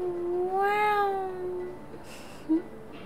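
A cat in the video game Tales from the Borderlands gives one long rising-and-falling meow, clear and close, followed by faint background noise and a brief small chirp.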